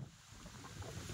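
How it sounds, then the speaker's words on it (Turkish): Wind blows steadily across an apple orchard, a faint low rushing roar buffeting the microphone with no voices. "Çok da rüzgar var."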